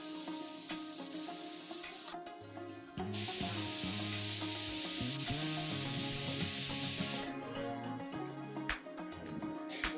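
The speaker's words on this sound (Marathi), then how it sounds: "तर आता प्रेशर कुकरला झाकण लावूयात आणि भाज्या शिजवून घेऊयात" A pressure cooker of vegetables for pav bhaji cooks on a gas flame, with a loud, sustained steam hiss in the middle of the clip that then drops back to a softer, busy background.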